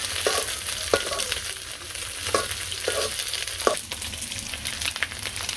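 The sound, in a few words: eggs frying in a pan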